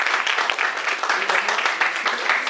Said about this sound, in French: nos deux modératrices, Inès et Sarah, qu'on peut applaudir.